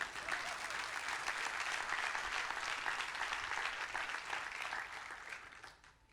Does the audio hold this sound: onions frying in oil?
no